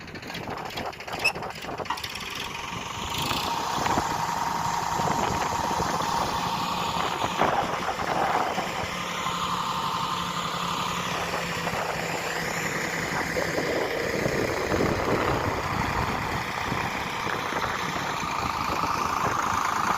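A Sonalika DI 35 HP tractor hitched to a two-wheel single-jack trolley idles while a JCB loads soil into the trolley, giving a steady mechanical drone with clanking and ratcheting over about twenty seconds.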